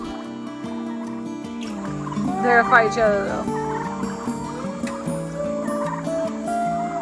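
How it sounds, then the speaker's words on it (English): Several homestead turkeys gobble loudly and close by in a burst of warbling calls, while a person speaks briefly over them. "the turkeys chase him away because he's acting very strangely"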